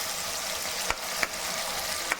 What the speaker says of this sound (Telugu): కొంచెం వేగనిద్దాం.